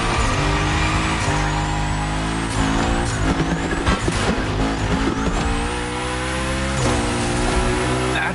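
A car slides through a gymkhana course in The Crew Motorsport, its engine droning loudly with long tire squeals and skids running throughout, close and continuous.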